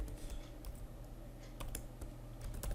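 Python code being typed on a computer keyboard, a steady patter of quiet keystrokes with a few sharper clicks over a low background hum.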